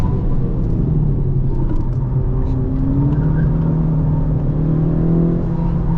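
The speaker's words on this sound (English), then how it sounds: "More turbo lag here in the Type R too." A modified FL5 Honda Civic Type R engine pulls hard under turbo boost from the driver's seat, a loud, continuous droning rumble with a rising note.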